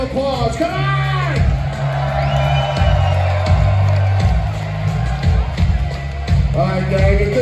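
Concert crowd at a heavy metal show in Vancouver roars with cheers, whoops and shouts over steady applause, a dense loud wall of sound with individual yells rising above it throughout.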